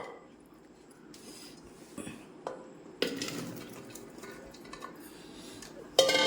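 Lemons tipped into a pressure cooker with sesame oil, producing a series of clattering knocks and clunks against the metal pot, with sharper impacts standing out among quieter rattling.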